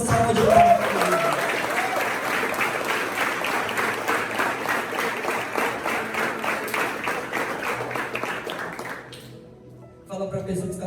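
Church audience at a youth revival gathering breaking into loud, dense applause with rhythmic clapping, sustained for several seconds before fading out, followed by a brief burst of sound.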